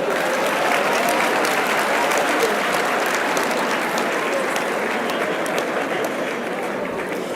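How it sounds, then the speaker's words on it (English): An audience at a talk breaks into continuous applause, a thick wash of many hands clapping at a constant strong level that eases very slightly toward the end, with no voices on top. "Please clap for me now."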